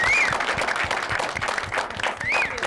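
Studio audience of a late-night talk show applauding, with steady close clapping and crowd noise throughout and a couple of whistles on top.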